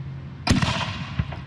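A firework goes off in a safety demonstration with one sudden, loud close blast, then a short crackling rumble and a smaller second pop as the sound fades.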